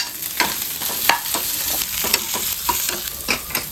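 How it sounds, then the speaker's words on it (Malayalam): Okra and tomato sauté in a hot pan, sizzling steadily while a spatula stirs and scrapes in regular strokes close by. No one speaks. "നമ്മുടെ വെണ്ടയ്ക്ക ഒന്ന് മൂത്ത് വന്നു. അപ്പോൾ നമുക്ക് തക്കാളി ചേർക്കാം."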